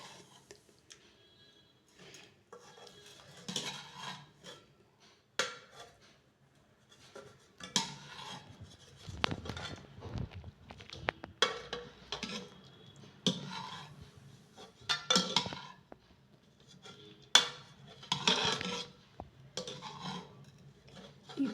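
Cooked dal and tomato mashed with a ladle for bele saaru, giving soft squelching strokes and metal taps against the pot, spaced across the clip with quiet gaps between.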